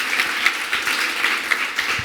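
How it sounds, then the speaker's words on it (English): A short, lively burst of audience applause rises at a kids' competition on a playground stage, with individual claps standing out through the dense clapping. "Big applause."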